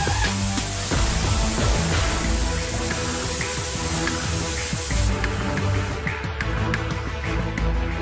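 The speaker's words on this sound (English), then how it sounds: "What you see here is the base coat application." Base coat is sprayed onto Porsche 911 bodies in a factory paint shop, a steady, close hiss of atomized paint with faint mechanical clicks and knocks, easing to quieter intermittent spraying sounds partway through.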